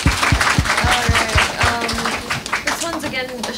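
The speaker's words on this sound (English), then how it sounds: "Give them another round of applause, please." An audience at a poetry slam claps in a quick burst of applause that fades after a couple of seconds, with voices talking over it.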